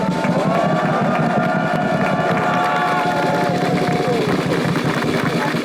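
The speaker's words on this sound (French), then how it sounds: "Allez, vous pouvez tous les applaudir, franchement," Crowd at a Call of Duty LAN event in France cheers and applauds in a dense, steady roar, with a held whistle-like tone riding over it for a few seconds.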